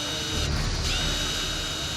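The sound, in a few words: brand new drill running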